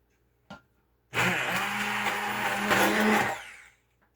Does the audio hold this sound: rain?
no